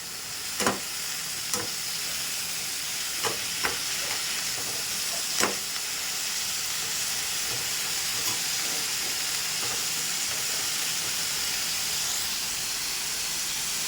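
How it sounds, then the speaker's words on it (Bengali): Food sizzles steadily in a hot pan through the whole stretch, with a few sharp scrapes and clinks of stirring breaking through the constant frying hiss; no talking. "সুন্দর করে নাড়াচাড়া করে দেবো"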